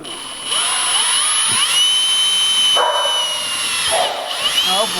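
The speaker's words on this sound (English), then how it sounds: "Everybody learned how to drill a hole just now" A power drill bores a hole into the body of a Porsche, giving a loud, sustained high whine that dips briefly midway, while voices react nearby.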